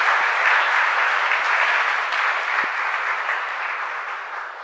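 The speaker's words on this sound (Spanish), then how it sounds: "Y un fuerte aplauso para todos ustedes," A church congregation applauds at a live parish Mass, a dense, steady wash of clapping close by that holds for several seconds and eases slightly at the end.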